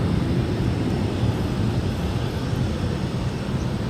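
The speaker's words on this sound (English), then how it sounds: "Here's a Delta jet coming into view. It's flight 973 at A220-100." A Delta Airbus A220-100 jet on approach at Austin-Bergstrom airport makes a steady, loud low rumble and roar that holds evenly throughout, no voices.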